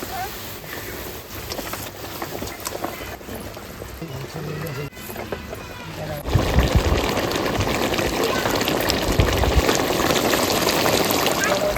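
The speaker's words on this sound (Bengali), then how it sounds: "ঝোল ফুটে গেছে মাছগুলো দিয়ে দেবো একে একে" Koi fish slipped one by one into boiling curry, a loud bubbling sizzle that swells and turns harsher after the fish go in, with someone talking over it.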